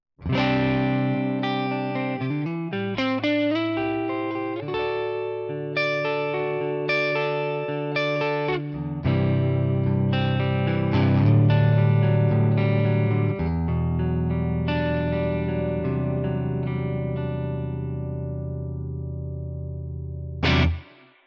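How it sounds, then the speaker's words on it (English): An electric guitar on its neck pickup plays through a Tonex amp model with reverb, moving from quick picked runs into sustained chords and ringing single notes for about twenty seconds before a final chord cuts off. "Let's add please some reverb and the neck pick."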